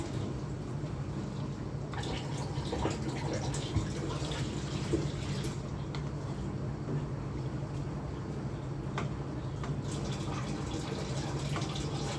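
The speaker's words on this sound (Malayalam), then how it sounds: "ആവശ്യത്തിനുള്ള വെള്ളം കൊടുക്കാം" Water pours steadily into a pot of chicken stew with coconut milk, a quiet continuous splashing rush with a low hum beneath it.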